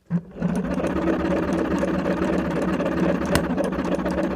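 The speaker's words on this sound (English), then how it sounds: "it doesn't just blow it once, it blows it and then it just keeps sparking across" An Arbra dynamite exploder, cranked and discharging into a 100 ohm resistor, gives a loud, steady buzzing rattle of continuous sparking that starts abruptly and holds without a break.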